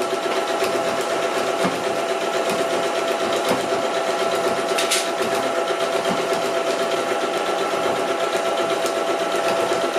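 A sewing machine runs steadily while stitching a seam on a zero-waste bulk bag, a continuous fast mechanical whir and rattle lasting throughout with no pauses and no talking.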